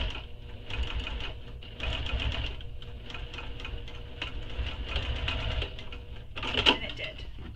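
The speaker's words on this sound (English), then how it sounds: "I'm going to see if my machine will be able to stitch through all those layers" A sewing machine stitching through thick layers of a crossbody bag, a steady mechanical whirring run of stitches at moderate volume, with a brief louder clack near the end.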